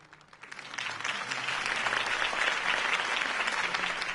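A crowd claps enthusiastically, the applause swelling within the first second and then holding steady and dense until the end.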